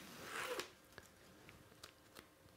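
The paper backing is peeled from a strip of athletic tape with a soft, close ripping sound. A few faint clicks and crinkles follow in quiet surroundings.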